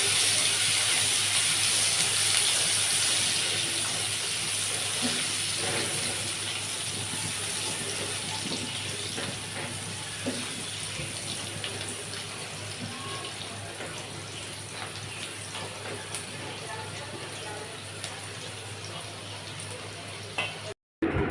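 Chopped onion frying in a pan for a bottle gourd and shrimp dish, a steady broadband sizzle with faint crackles running evenly throughout, ending with a brief clatter.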